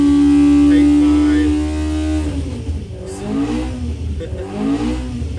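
A Mini engine fitted with a Carter998 screams at high revs on a dyno run, then falls into a rough, sputtering stretch with a misfire as the revs sweep and waver. The sound is loud and close.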